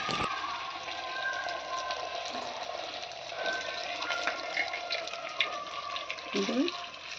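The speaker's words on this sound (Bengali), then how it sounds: "আমাদের গুড় পিঠে তেলে ছাড়া হচ্ছে, দেখো ফুলকো লুচির মতো এবারে ফুলছে।" Jaggery pitha dough frying in hot oil, a steady sizzling hiss that continues throughout at moderate level, with a few brief clatters near the end.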